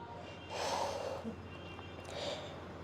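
Exhaled breath during a yoga movement that rounds the spine, heard as a soft airy rush of about a second, followed by a fainter second breath, fairly close with low room hiss.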